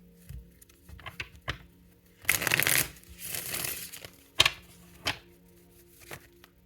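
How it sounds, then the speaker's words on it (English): Tarot cards riffle and slide as a deck is shuffled close up, coming in short bursts with soft taps and gaps between them, with no voice. "I was trying to shuffle and feminine came out."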